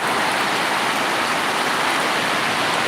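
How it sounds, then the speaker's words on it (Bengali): Heavy rain pours during a Kalbaishakhi storm in Cumilla, making a dense, steady, loud hiss with no letup and no voices. "বৃষ্টির পাওয়ার খালি বাড়তেছেই তো এই যে দেখেন"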